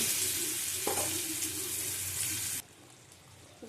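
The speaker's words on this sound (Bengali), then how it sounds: "ভালো করে একটু ভেজে নেব।" Food frying in a pan for a home-cooked lunch, with a dense, close sizzle that holds steady for about two and a half seconds and then cuts off abruptly, leaving a faint background hum.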